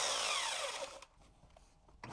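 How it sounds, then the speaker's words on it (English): A rotary hammer drills into a concrete slab, its loud grinding whir winding down within about a second and then giving way to quieter scraping. "this is not a regular drill. This is called a roto hammer. It actually pounds on the drill bit at the same time it's rotating it."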